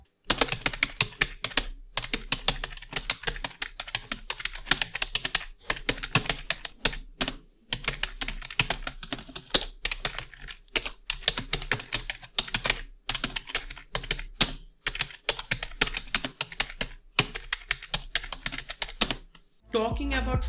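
Typing on a stiff Havit KB500L gaming keyboard, close up and alone: rapid bursts of crisp key clacks with short pauses between runs, ending in a brief louder thump.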